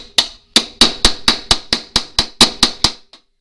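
Hammer blows drive a flue damper into a chimney pipe, about a dozen sharp metallic strikes in a steady rhythm, close and loud, each ringing briefly before the next.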